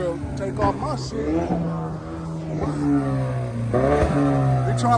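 A Dodge Hellcat and other cars at a car meet, with engines revving in loud, sustained drones that rise and fall over about five seconds, while people talk and shout nearby.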